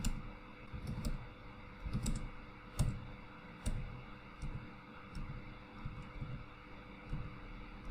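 Someone types on a computer keyboard in scattered, faint clicks and taps, a few single keystrokes spaced out over quiet background hiss.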